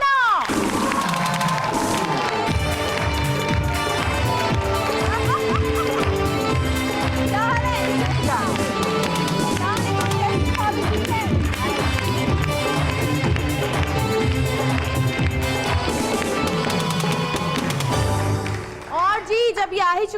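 A studio audience claps and cheers loudly and continuously as guest couples arrive on stage, a dense sustained wash of applause and whoops with music underneath, then a brief drop before a voice starts speaking.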